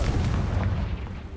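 A Confringo fire spell bursts in Hogwarts Legacy with a loud, dense boom that keeps rumbling low and steady through its length, with no voices over it.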